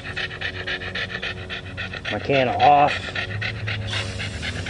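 A dog pants rapidly and steadily nearby, with someone talking over it and some handling noise.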